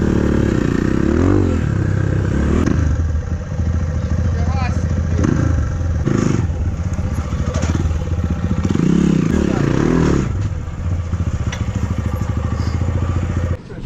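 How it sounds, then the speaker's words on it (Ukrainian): A Kayo TSD 110 enduro motorcycle revs hard while throttling through sand, its loud, close engine rising and falling in surges, with someone shouting over it. "газу, газу, газу, не збрасуй в піску газ"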